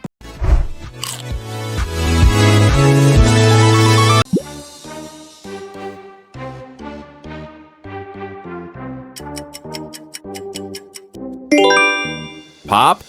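Pringles logo jingle: a loud sustained opening chord gives way to bouncy plucked and bell-like notes in a steady rhythm, ending with a bright shimmering flourish.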